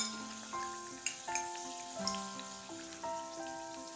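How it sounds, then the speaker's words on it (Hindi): Pakoras deep-fry in hot oil over medium heat, a soft bubbling crackle running steadily and fairly faint, with a steady tonal hum in the background and no speech. "ऐसे ऊपर से भी तेल डालते रहना है इनके ऊपर, ताकि ऊपर से भी अच्छी तरह से तल जाए।"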